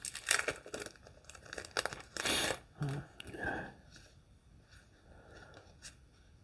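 Close crinkling and rustling of a resealable plastic bag being handled and pulled open while unboxing a board game Kickstarter package, coming in several short bursts with quieter handling between.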